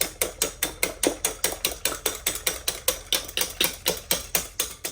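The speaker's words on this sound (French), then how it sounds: "Donc je mélange bien les œufs avec le sucre pour faire fondre le sucre." Eggs and sugar beaten by hand in a bowl for a chocolate fondant cake batter, a fast steady run of sharp rhythmic whisk strokes clicking against the bowl, close and alone.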